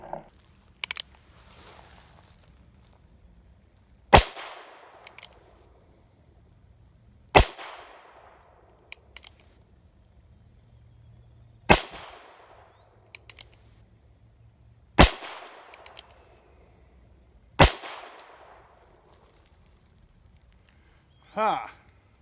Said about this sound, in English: we're gonna load up and try to shoot at the head with the Heritage again